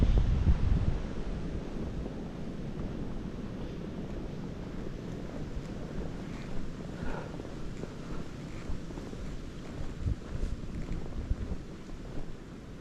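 Cold winter wind blows steadily across a snowy logging road on Connecticut public land, a continuous rushing buffet against the microphone with no voices.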